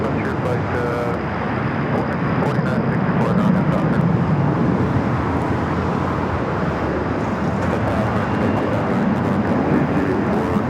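An airliner takes off at night at Los Angeles International Airport (LAX), its engines a steady, broad roar that fills the whole stretch with little change in level.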